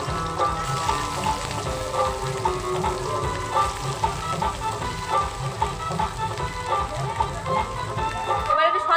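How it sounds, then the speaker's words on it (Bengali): Potatoes frying in hot oil in a home kitchen, a steady dense sizzle with faint stirring, while a voice talks over it throughout. "এবার আলু ভেজে নেব।"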